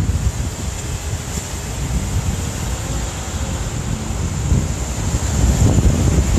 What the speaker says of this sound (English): Definitely gonna have to change locations and get some more buildings to die down this wind.